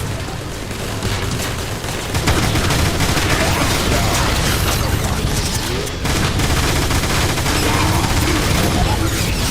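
Dense, continuous gunfire in the video game War for Cybertron: a loud wall of rapid shots and blasts with booming undertones, sustained throughout with battle clamor and voices beneath.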